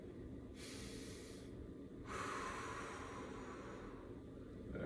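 Heavy breaths during a morning warmup stretch come in two long, close, hissing exhalations, one after the other, over faint background hum.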